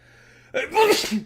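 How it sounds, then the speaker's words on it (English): A single sudden sneeze from one person close by, a short breathy intake followed by a loud sharp burst that tails off quickly, heard indoors during a card-drawing giveaway stream. "I feel like I'm going to sneeze."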